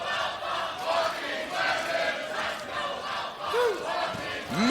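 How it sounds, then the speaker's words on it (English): A wrestling arena crowd cheers and chants in loud rhythmic waves, a massed roar rising and falling continuously with a few shrill whistles near the end. "Mixed cheers now as these two have earned more than the respect of the crowd as they are hearing chants of "Let's go Alpha, let's go Alexander.""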